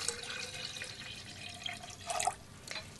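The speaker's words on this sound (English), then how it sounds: "I have a vessel of water that I will pour into this container." Water poured from a vessel into a container during an ocean acidification demonstration, a steady splashing trickle with brighter gurgling bursts near the end, close and fairly quiet.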